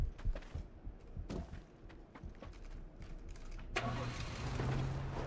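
A buggy's engine revs up and runs loudly in a PUBG match, rising abruptly partway through into a steady close roar with a sustained low drone, following scattered clatter and game noise.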